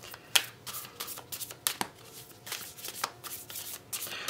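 Tarot cards shuffled by hand in repeated crisp riffling bursts, close and clear, with no talking.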